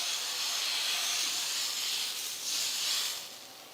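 Ragi dosa batter sizzles on a hot pan, a steady loud hiss that swells briefly midway and then eases slightly near the end, with no voices.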